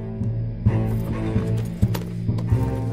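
A horse's hoofbeats thud in a steady galloping rhythm in the video game Red Dead Redemption II, close and clear, layered over sustained tonal background music without any talking.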